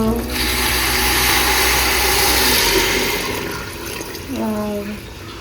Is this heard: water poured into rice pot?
yes